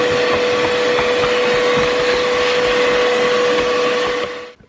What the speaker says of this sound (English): Give it a good vacuum and regroup and go from there.